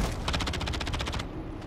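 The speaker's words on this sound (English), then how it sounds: "Oh my god, I'm getting shot at." Rapid automatic gunfire in a battle royale video game match, a fast burst of about a dozen evenly spaced shots lasting around a second, then a quieter game background.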